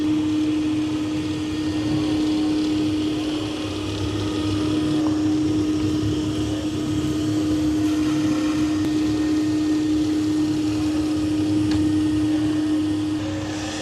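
A robot vacuum and mop runs steadily with its LiDAR spinning and side brush extending, a constant motor hum with a sustained tonal whine and faint mechanical clicks, fairly quiet throughout.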